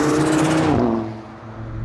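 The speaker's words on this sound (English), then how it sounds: "Intoxicating turbo spool and diverter valve sounds confirmed." A turbocharged car with an S-Flo carbon intake spools up with a rising whistle, then the diverter valve releases in a loud whoosh as the engine note drops, close and with no talk.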